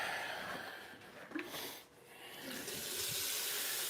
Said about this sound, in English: Fill up my water bottle. Rinse it out. Let it run through.